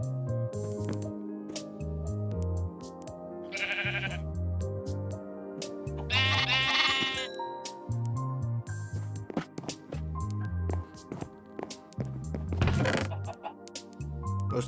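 Goats being fed on a Minecraft farm let out several short, nasal bleats scattered across a looping background game tune and clicks.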